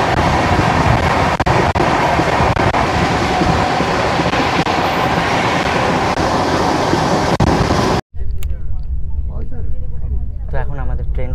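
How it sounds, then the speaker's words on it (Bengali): An express train running at full speed, about 100 km/h, through a station roars with loud, dense rumble and rail clatter for most of the stretch, then cuts abruptly to a quieter interior with faint talk. "ট্রেন আমাদের পুরো স্পিডে চলছে, মোটামুটি 100 কিলোমিটার/আওয়ারের গতিবেগে চলছে"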